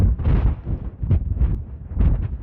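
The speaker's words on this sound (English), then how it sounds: "Really windy here. I hope the sound's coming through okay." Strong gusting wind on the summit ridge of Mummy Mountain, about 11,520 feet, in Nevada's Mt Charleston Wilderness, buffeting the microphone in loud, uneven rumbling bursts.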